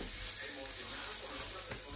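Food fries in a pan with a steady close sizzle and hiss, a soft stirring scrape under it, and the food is beginning to burn slightly.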